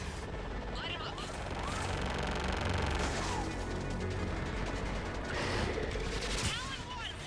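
Gunfire from air support in a Mass Effect 3 battle on Thessia, bursts of rapid shots and blasts over rumbling aircraft noise, continuous and loud, with radio-style voices talking over it.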